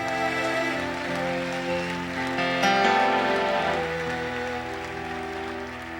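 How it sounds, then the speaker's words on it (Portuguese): Applause from a church congregation in a worship service, a broad steady wash of clapping that continues for several seconds beneath sustained instrumental music. "Dê uma salva de palmas."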